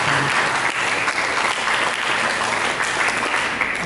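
A church congregation breaks into steady, sustained applause that fills the whole stretch, dense and fairly loud with no gaps and no voice rising above it.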